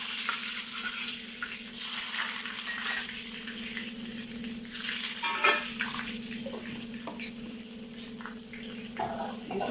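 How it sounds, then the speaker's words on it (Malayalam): Chopped onion hisses in hot oil with popped mustard seeds for beetroot pachadi, a steady sizzle broken by stirring scrapes and clinks, close and moderately loud with no talking. "ഉള്ളി അരിഞ്ഞ് ഇട്ട് കൊടുക്കാം."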